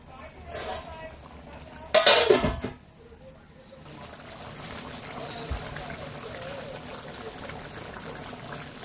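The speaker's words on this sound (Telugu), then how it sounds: "మూత పెట్టుకుందాం." A metal lid is set onto a pot of fenugreek chicken curry cooking on a low flame, one sharp clinking clatter that rings briefly, then a soft steady simmer continues underneath.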